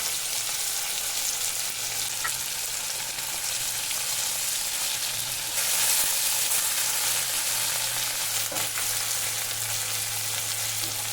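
Potatoes and cumin powder fry in a pan for a Bengali fish-egg and potato dish, giving a continuous, even sizzle up close with light stirring; no one talks.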